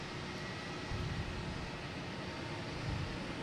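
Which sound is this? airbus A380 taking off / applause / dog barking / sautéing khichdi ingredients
airbus A380 taking off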